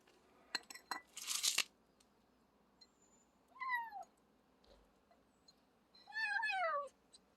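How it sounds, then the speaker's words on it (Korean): A wild kitten gives two clear, rising-and-falling meows, the second longer, heard close in a quiet indoor space after a few brief clinks and a rustling burst. "이 고양이가 있습니다"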